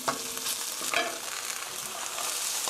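Onion, garlic and bell pepper stir-frying in a hot pan for spicy tteokbokki, a dense sizzle with scraping stirs and a sharper clatter near the first second, close up and without voices.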